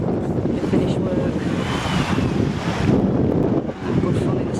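Sea waves wash onto the shore at Agia Pelagia, Crete, on an evening beach, a loud, continuous surf roar heavily buffeted by wind on the microphone, with a faint swell in the middle.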